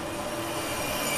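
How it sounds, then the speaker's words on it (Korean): A train heading to Daejeon rumbles steadily from inside the carriage, with a continuous loud roar of wheels on rails and a faint squeal, and no voices. "2015년 1월 석혜균 선장은 대전행 기차에 몸을 실었다."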